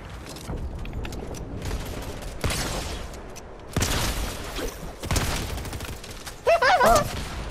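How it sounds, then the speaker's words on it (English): Several heavy gunshots from a lever-action rifle in Fortnite ring out a second or more apart, each with a sharp onset and a decaying tail, with a short burst of other game sounds near the end. "That was a lever action. That's a very interesting gun."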